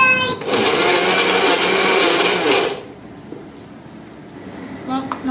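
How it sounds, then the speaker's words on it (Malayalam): Small jar of a kitchen mixer grinder powdering biscuits: a loud, whining motor burst for about two seconds that cuts off abruptly, leaving a quiet room with faint handling noises. "ചെറിയ ജാറിൽ നമ്മൾ പൊടിച്ചെടുക്കുന്ന കേട്ടോ. ചെറിയ ജാറിലാകുമ്പോൾ പെട്ടെന്ന് പൊടിയും,"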